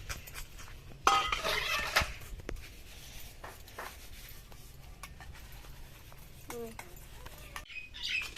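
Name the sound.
washing dishes, pots and utensils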